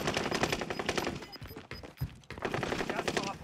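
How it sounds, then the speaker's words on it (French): Gunfire between rival enemy teams in Call of Duty: Modern Warfare, rapid automatic bursts rattling almost continuously at mid distance, with a brief lull in the middle and no talking over it. "Il y a un autre team qui se tire, ça."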